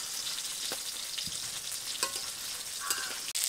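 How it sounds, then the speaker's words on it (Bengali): Bhola fish frying in hot mustard oil in a wok, a steady loud sizzle running throughout with occasional sharper pops and spatters, no voices. "আমি এখানে মাছগুলোকে সর্ষের তেলে ভেজে নিচ্ছি"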